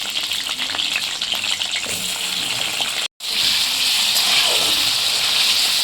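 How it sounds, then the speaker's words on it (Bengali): Cumin seeds crackle in hot oil as potatoes fry, a close, loud sizzle with sharp pops that breaks off briefly and then returns as a fuller, steadier hiss. "জিরে ফোড়নটা চড়বড় করছে, এবার আলুগুলো দিয়ে দেবো।"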